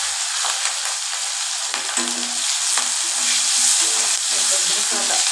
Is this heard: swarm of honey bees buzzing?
no